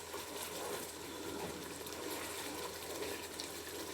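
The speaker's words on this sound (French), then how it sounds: "Là, je vais rajouter de l'eau pour avoir plus de sauce." Water pours steadily into a cooking pot of vegetables and tomato sauce for riz au gras, a continuous even gushing splash with no talk.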